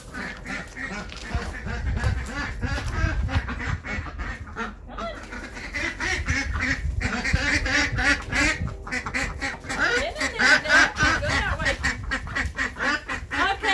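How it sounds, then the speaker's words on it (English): Ducks quacking loudly and repeatedly in a backyard herb garden, a busy overlapping chorus of nasal calls nearby, growing more rapid and insistent toward the end. "the ducks are in trouble"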